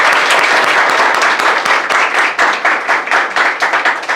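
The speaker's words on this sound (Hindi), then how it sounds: "सभी बच्चे इस बच्ची को जोरदार तालियां बजाएंगे।" Students at a coaching-centre award ceremony for CBSE class 12 toppers clap loudly for a top-scoring girl, close, dense and energetic applause over four seconds with no speech.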